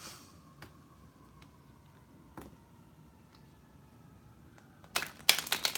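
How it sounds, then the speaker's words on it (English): Playing cards are handled with a few scattered soft ticks, then riffle-shuffled in a quick, crackling flurry of snaps at the end, close by and fairly quiet. "I'm going to shuffle the cards for you, Rebecca."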